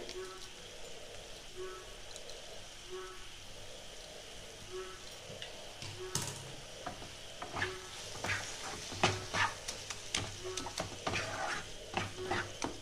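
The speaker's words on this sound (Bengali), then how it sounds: "এটা আরও 1-2 মিনিট আমি একটু ভালো করে মিশিয়ে নেব।" Pav bhaji stirred and frying in a pan for Mumbai street-style cooking, with steady sizzling and scraping spatula strokes that grow busier and louder in the second half.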